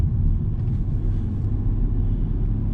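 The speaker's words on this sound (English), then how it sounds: "Just that rumble, and we're just going to roll the throttle on" A 2008 Volvo S80 V8 rumbles deeply and steadily on a dual carriageway, a loud continuous low engine drone heard from inside the car.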